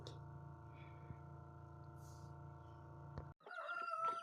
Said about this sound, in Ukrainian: чую, десь цяпає маленьке курчатку